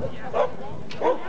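A couple of short dog barks, somewhat distant, over a background of murmuring voices and outdoor noise.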